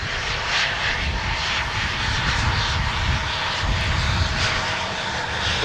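A continuous, loud roar of aircraft engines at Minneapolis-St. Paul airport, steady and broadband throughout with no talk.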